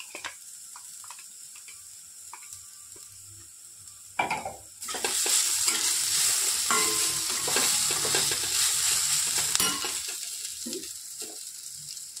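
Ginger, garlic and chili paste hits frying onions in a pan, bursting into a loud, steady sizzle at about four seconds while it is stirred, then easing slightly toward the end.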